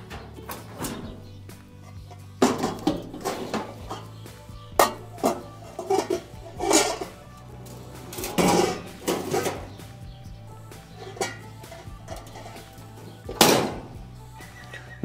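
Dishes clatter and clink as they are handled in a kitchen warming drawer beneath an oven, with intermittent hollow thuds and sliding knocks from the drawer itself.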